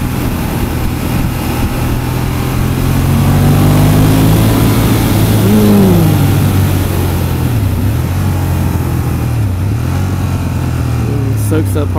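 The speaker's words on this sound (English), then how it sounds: "Engine brake!" Ducati Monster 1200 R motorcycle engine braking on a downshift: a steady loud twin-cylinder drone whose pitch rises and falls with blips and burbling, close and continuous, with a voice talking over it.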